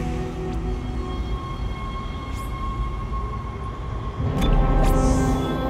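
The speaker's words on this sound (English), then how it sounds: "Let's jump on the tram!" A tram ride in the video game Dead Space: a steady rumbling rail hum with faint metallic squeals, growing louder toward the end, with no talking.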